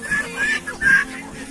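Chickens clucking close by: three short, bright calls come in quick succession over soft background noise, with no one talking.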